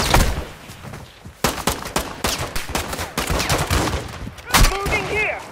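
Gunfire in Call of Duty Warzone DMZ, rapid bursts of loud automatic shots, close and dense, with shouted voices heard between and under the firing.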